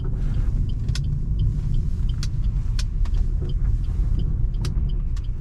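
Cabin sound of a Maruti Ignis with the air conditioning on, driving downhill: a steady low engine and road rumble with occasional light clicks and rattles, and no voices.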